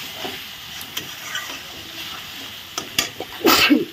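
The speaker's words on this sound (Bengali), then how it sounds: "চিনিটা দিয়ে একটু ভালো করে নাড়াচাড়া করে আরো ভালো করে কষিয়ে নিচ্ছি" Masala with sugar is stirred and sautéed in a pan for a rohu fish curry, giving a soft low sizzle with scattered scraping stirs and a louder burst of clatter near the end.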